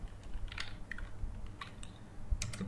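Computer keyboard typing close by: scattered clicky keystrokes in small bursts with short gaps, fairly quiet over a low steady background hum, no talk.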